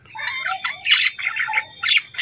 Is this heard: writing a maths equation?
no